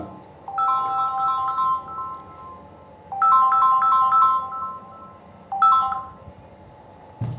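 A mobile phone ringtone plays a bright, repeating melodic phrase in three bursts with short pauses between, loud and clear over a quiet classroom hum.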